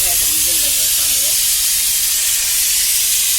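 A pressure cooker with boiling potatoes vents a loud, continuous steam whistle and hiss, close and steady, with a faint wavering tone in the first second.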